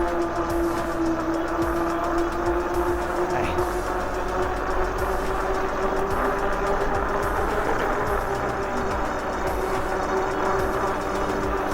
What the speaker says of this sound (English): when people complain about road noise on a fat tire bike like this, it's not loud at all